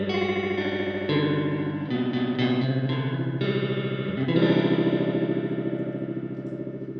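Westminster Effects Chrysostom chorus/vibrato pedal with every control turned fully up, a sustained guitar tone swirling with heavy, wobbling modulation and shifting chords, loud and continuous with no voices.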